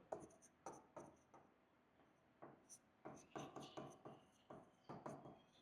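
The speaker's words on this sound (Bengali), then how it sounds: "তাহলে এখানে সে কথাই লিখবো" Chalk or marker strokes on a classroom board come in short rhythmic bursts of scratchy taps, close and fairly faint, with brief pauses between words. No one talks.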